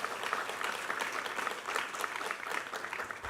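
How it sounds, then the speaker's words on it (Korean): A church congregation claps during a Sunday worship service, an even, sustained wash of applause heard at a modest distance, with no voices over it. "우리 하나님께 감사와 영광의 박수 올려드리겠습니다"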